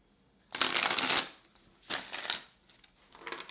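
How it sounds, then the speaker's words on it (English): Spirit animal oracle cards are riffled and shuffled by hand in three quick bursts, the first loudest and longest, close and crisp with no voice over them. "Let's pull a spirit animal oracle card for you, Cappy."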